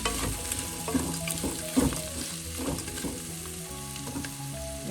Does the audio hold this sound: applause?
no